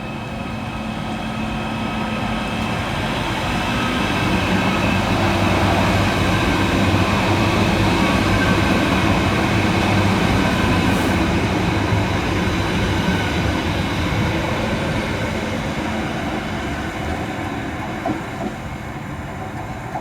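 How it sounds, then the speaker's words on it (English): A Merseyrail class 777 electric train, unit 777-152, pulls away from a station, a continuous loud hum and rumble of traction and wheels that holds steady for the full twenty seconds with no talk. "Next out to depart is 777-152, working the 1326 Merseyrail electric service through to Liverpool Central."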